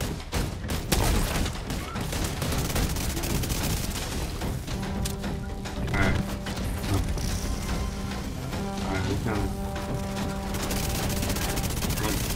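Heavy gunfire shootout in The Division 2's Dark Zone, with dense bursts of automatic fire and explosive booms running continuously and loudly throughout, and a few other game sounds layered in.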